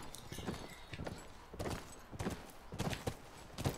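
Horse hooves in The Last of Us, a steady clip-clop of several hoofbeats in a regular walking rhythm, fairly quiet and unaccompanied by talk.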